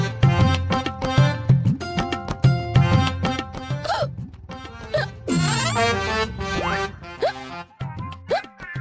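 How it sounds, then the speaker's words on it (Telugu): Repeated hiccups in a TV drama scene, short sharp vocal bursts recurring in an uneven rhythm, close and fairly loud, with other voice sounds between them. "ఎక్కిళ్ళు వస్తున్నాయండి"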